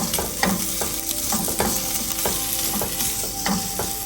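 A breakfast filling fries and sizzles in a pan, with a constant bright crackle and repeated scraping knocks as it is stirred, close and loud, with no talking.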